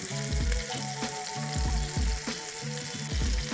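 Charred tomatoes fry in a pan with a constant sizzle, broken by regular low thumps and knocks from stirring. No one speaks.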